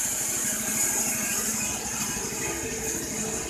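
A Wood-Mizer LT15 sawmill runs on its 15 hp Kohler Pro-15 petrol engine while sawing pine, giving a steady rattling engine drone with a rapid low pulsing throughout, close and continuous.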